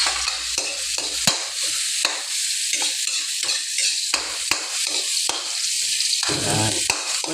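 Garlic fries in a pan with a loud, continuous sizzle, broken by repeated scraping and knocking of a utensil against the pan as it is stirred, close up.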